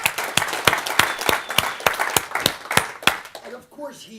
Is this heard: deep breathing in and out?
no